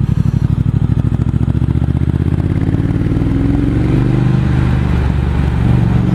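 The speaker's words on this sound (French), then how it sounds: "on entend quand même le bruit du moteur" A Triumph 1200 Speed Twin with a modified engine map rides the Route des Crêtes in the Vosges, its twin engine pulsing with a loud, steady low thrum that smooths into a rising drone as it accelerates, heard from the rider's helmet.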